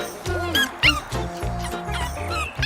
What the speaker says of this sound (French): Donc là, on a les chiots.